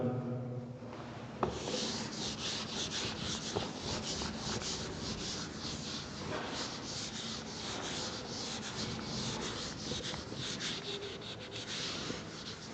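A board is rubbed clean with steady, close, scratchy strokes that run continuously in a dense brushing rhythm, with no voice over them.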